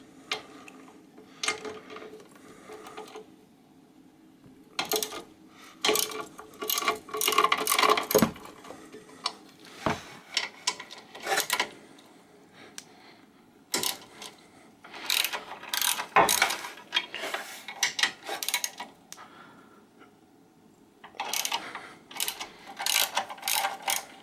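A ratchet with a 14 mm socket on a universal joint loosens bolts on a Sole treadmill. Clicks come in repeated quick runs with short pauses between them, close to the microphone, with no talking.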